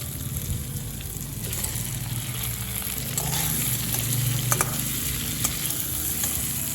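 Continuous sizzling of pre-fried pointed gourd added to oil and spices with potatoes, with a few scraping stirs and clinks from a spoon in the pan.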